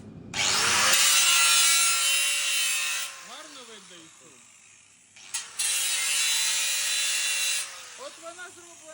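Angle grinder spark-testing stainless steel in a workshop, two loud sustained grinding passes of a few seconds each, each spinning down with a falling whine before the next starts.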